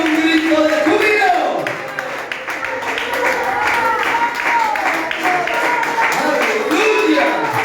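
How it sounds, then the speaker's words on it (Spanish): Church congregation clapping and cheering during a worship service, a lively mix of applause and raised voices that continues steadily throughout. "expréselo con un aplauso, expréselo con un grito de júbilo"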